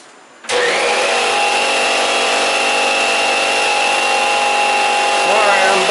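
An air compressor runs for a powder coating job in a homemade booth, starting abruptly and then holding a loud, steady mechanical drone with a constant whine.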